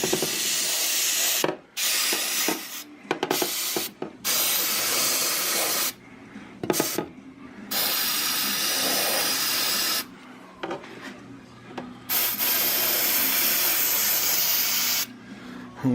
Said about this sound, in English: So I have my spray here, shop solvent.